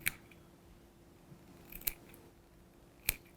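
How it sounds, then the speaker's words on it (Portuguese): Scissors make three crisp, quick snips into the edge of chita cotton fabric, close and fairly quiet, spaced irregularly with near silence between cuts and no voices. "você vem com a tesoura, olha, e vai fazendo vários piquezinhos nela"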